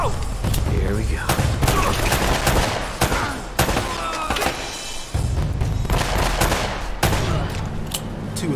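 Rapid gunfire in Uncharted: Drake's Fortune, with dense bursts and repeated sharp shots across a firefight, loud and close, mixed with game sounds and a voice speaking over it.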